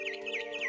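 Bird chirping in What Remains of Edith Finch: bright, repeated chirps in a quick rhythm, close and clear over a steady tonal background, with no talking.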